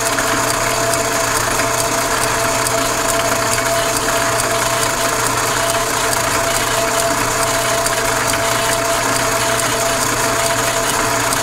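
A machine tool steadily shaves epoxy off a prototype steering sector for the X231, giving a continuous, loud mechanical whir with a faint ratcheting texture that runs unbroken throughout with no talking.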